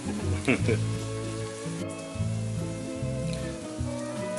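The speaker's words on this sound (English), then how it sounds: "the Spam is still cooking" Slices of Spam fry in a pan with teriyaki glaze, giving a steady soft sizzle and crackle close by, with a faint tonal hum in the background.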